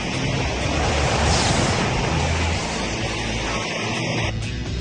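Hurricane Andrew's wind roars outside a house with the power out. The noise is a loud, rough rumble, surging and then easing slightly near the end, with no voices.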